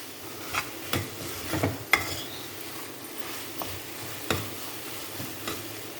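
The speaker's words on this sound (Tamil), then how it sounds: "நம்ம கொஞ்சம் கிண்டிகிட்டே இருக்கணும்" Tomato masala with ginger and garlic is stirred in a pan, with a spoon scraping and tapping in a few sharp, separate knocks over a soft, low sizzle.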